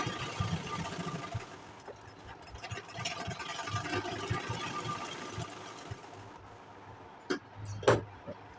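A sewing machine runs steadily through a double stitching pass on an Anarkali long gown, a continuous mechanical whir at moderate level with a couple of sharp clacks near the end.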